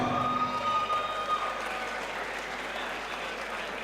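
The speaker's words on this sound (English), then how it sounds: "round of applause for both fighters this evening" Crowd applause at a caged MMA bout, the Fightstar Championship 13 event, cheering both fighters at the end of a fight that went the full three rounds; steady clapping from an arena crowd, loudest in the first second or so and then holding at a strong level.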